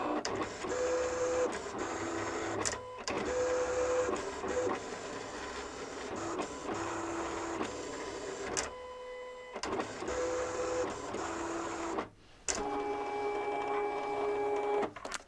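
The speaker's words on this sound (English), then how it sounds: "I'm going to go ahead and send that to my cameo." A Silhouette Cameo cutting machine working through textured cardstock: a quiet, steady mechanical whir broken by short pauses and small shifts in pitch as the carriage moves, heard alone.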